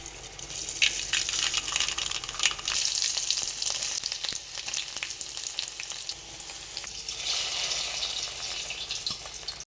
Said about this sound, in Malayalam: ഇനി ചട്ടി വെച്ച് ചട്ടി ചൂടായി കുറച്ച് കടുകിട്ട് പൊട്ടിക്കാവേ